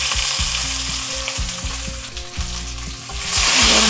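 Finely chopped garlic sizzles steadily in a pan over low heat, a close, continuous crackle of frying with stirring running throughout and no voices.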